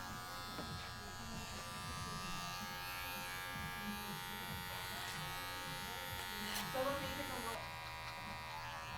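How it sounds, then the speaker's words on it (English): Electric hair clippers cut hair over a comb during a taper, giving a steady close buzz that runs the whole time with small shifts as the clippers move. "Clipper over comb."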